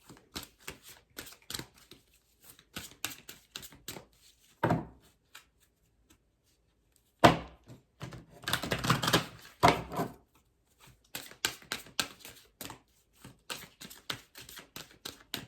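Tarot cards being shuffled in quick riffling bursts, with pauses between, close and crisp, plus light taps of the deck being squared.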